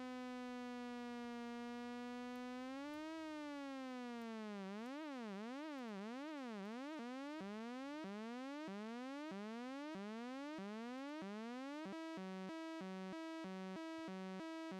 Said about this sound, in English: it's starting to sound like a British ambulance or something